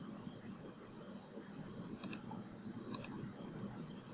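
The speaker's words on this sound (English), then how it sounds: "click on to login" A computer mouse gives two quick, faint double-clicks, spaced about a second apart, over a low steady room hum.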